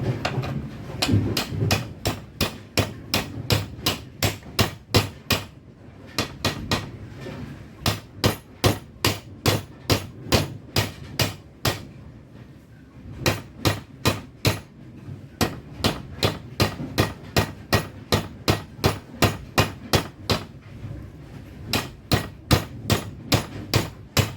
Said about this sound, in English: I'm going to tap it in on the vise.